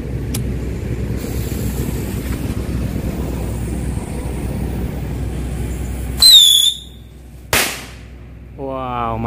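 A loud outdoor crack and whistling burst from a cheap rocket firecracker, followed by a second sharp bang, over steady background rumble.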